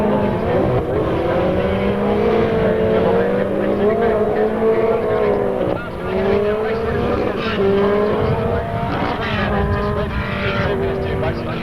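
Racing cars such as a 1990 Elfin F2 and a Jaguar lap a track at Baskerville, their engines droning loudly and rising and falling through gear changes as a commentator talks over them.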